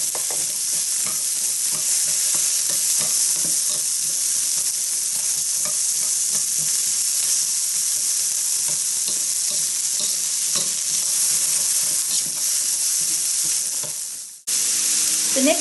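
Loud, continuous sizzling from low-fat fried rice cooking in a pan greased with cooking spray instead of oil, close up, with frequent scraping and tapping as the rice is stirred; a brief drop near the end.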